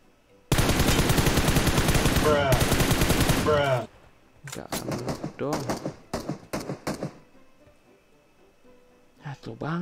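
Rapid automatic gunfire from a shooter video game, a loud sustained burst of about three seconds followed by several shorter bursts and single shots, close and dominant, with a voice talking faintly in the gaps.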